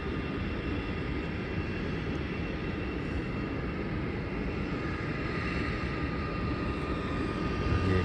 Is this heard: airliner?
yes